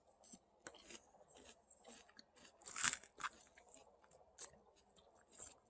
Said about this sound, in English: While eating those animal crackers